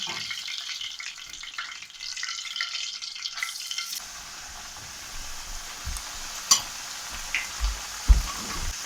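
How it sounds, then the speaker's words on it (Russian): Oil crackles and sizzles steadily as chebureki fry in a pan, with a few soft clunks and scrapes near the end. "Сейчас будем чебуреки жарить."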